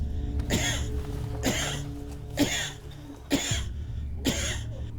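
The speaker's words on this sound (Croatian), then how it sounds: "To ti je puh, brate. Kašlje kao stari čovjek kad puši cigaru bez filtera." An edible dormouse gives five rasping, cough-like bursts spaced about a second apart, close and fairly loud, sounding like an old man's hacking smoker's cough over a faint steady background hum.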